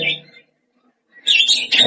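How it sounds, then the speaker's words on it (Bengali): Captured munia birds, caught at night in a rainstorm, let out a short burst of thin, high chirps, fall silent briefly, then break into busier, overlapping chirping close by. "এটা হচ্ছে আমাদের মুনিয়া পাখি"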